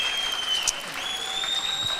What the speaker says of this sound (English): Crowd appreciating that one.